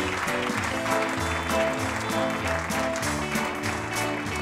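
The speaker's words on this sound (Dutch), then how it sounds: "Een applaus voor het licht, het geluid, de techniek" Applause at a village revue finale, given for the lighting, sound and technical crew, dense and continuous beneath loud music with a strong rhythmic beat.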